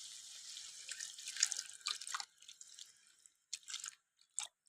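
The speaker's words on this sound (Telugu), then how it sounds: "ఇప్పుడు మనం కొంచెం వాటర్ అయితే యాడ్ చేసుకోవాలి." Water is poured into a pot of pigeon pea curry, a quiet splashing trickle that breaks off into a few faint separate drips, with no talking.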